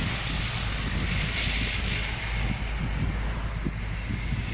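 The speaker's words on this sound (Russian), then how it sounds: "Бомбардир Dash Q300." Steady broadband roar of a Bombardier Dash 8 Q300 turboprop airliner's engines close by at Tiksi airport, continuous and loud with a low droning hum and no break throughout.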